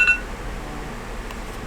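A phone alarm gives a brief high beep right at the start, then stops, leaving faint room noise for the rest.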